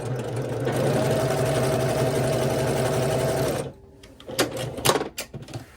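A sewing machine stitches quilt squares together in one continuous fast whirring run for several seconds. It stops abruptly, followed by a few short clicks and handling taps.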